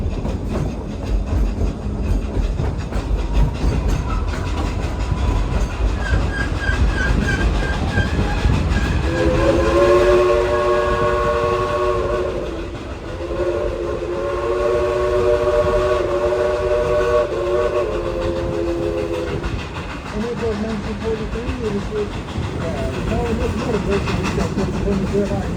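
A Type 282 steam locomotive (engine 192) pulls the Dollywood train ride, sounding its whistle in long chords over the rumble and clack of rolling cars, while a narrator talks throughout.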